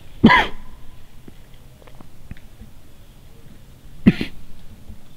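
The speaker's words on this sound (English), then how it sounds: "I can't stop coughing." Two separate harsh coughs, one near the start and another around four seconds in, loud and close against a quiet room with faint background noise.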